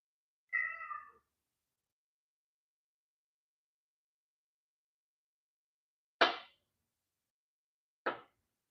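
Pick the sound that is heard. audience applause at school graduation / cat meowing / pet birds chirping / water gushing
cat meowing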